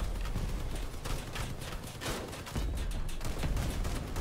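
Cannons fire in a dense, rapid barrage in the vehicle combat game Crossout, with loud overlapping blasts and mechanical clatter throughout.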